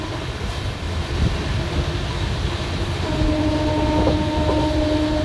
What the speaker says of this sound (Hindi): ये थी दोस्तों फरक्का एक्सप्रेस।